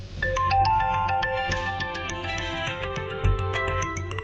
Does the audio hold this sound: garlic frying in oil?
no